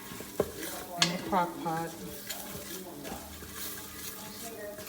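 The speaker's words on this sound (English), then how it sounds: "So we're going to saute it." Goat meat for Jamaican curry sautéing in an Instant Pot, with stirring scrapes, light sizzling and a few utensil clinks against the pot, mostly steady and close with brief speech over it.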